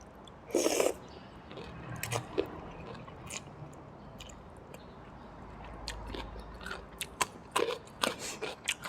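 Crunchy long beans and cabbage eaten with khanom jeen in fish curry, giving scattered close crisp bites and chewing, with a louder crunch early and several sharp bites toward the end, no talking.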